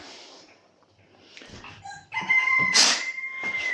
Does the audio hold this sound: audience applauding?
no